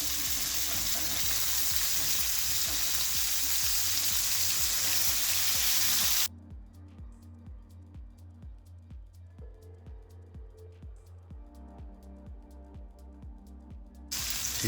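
King salmon fillets sizzle skin-side down in a hot cast iron pan, with a stainless steel spatula nearby: a loud, dense hiss for the first six seconds, then a much quieter, steady crackle with soft rhythmic pulses, and nobody speaking.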